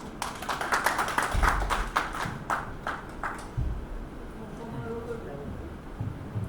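Scattered claps from an audience at a Hindu religious discourse on the Vishnu Purana in Vrindavan, sharp taps for about three seconds that thin out into room murmur.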